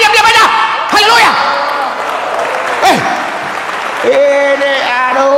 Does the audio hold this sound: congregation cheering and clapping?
yes